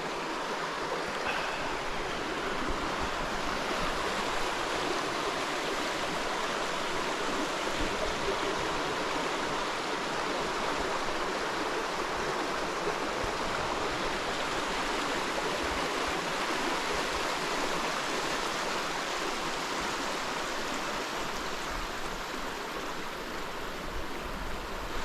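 The Moy burn in a Scottish glen running high in spate, a constant full-bodied rush and roar of fast water that holds steady and loud throughout, with no voices.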